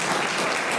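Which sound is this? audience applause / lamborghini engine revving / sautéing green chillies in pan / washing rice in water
audience applause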